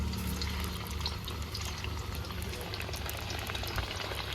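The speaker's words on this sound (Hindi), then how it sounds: "जितने पनीर के पीस इस तेल में आएंगे उतने ही पहले हम फ्राई करेंगे।" Paneer pieces fry in hot oil with a faint, steady sizzle and crackle, fine popping spread evenly throughout, quiet and without talk.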